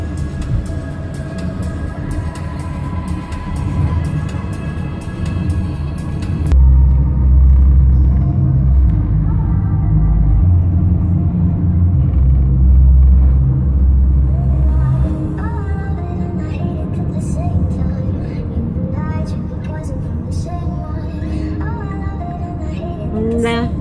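Car driving on the road from Simferopol to Yalta in Crimea, a steady loud low engine and road rumble from inside the vehicle, heaviest in the middle, with music playing over it in places.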